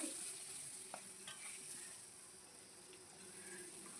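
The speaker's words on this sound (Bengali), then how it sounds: "কিছুটা জিরে ফোড়ন দিয়ে এখন আমি আলুগুলো এর মধ্যে দিয়ে সুন্দর করে ভেজে নেব" Potatoes frying in oil with cumin seeds, salt and turmeric, a steady close sizzle with faint stirring scrapes, no talking.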